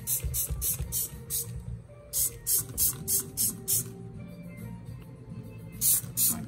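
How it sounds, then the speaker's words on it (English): Quick bursts of foaming cleaner spray hiss into a sink in rapid groups of short pumps, close up, with pauses between the clusters. "we just spray all around in here, and down in there."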